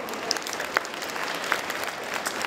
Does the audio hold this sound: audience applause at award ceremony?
yes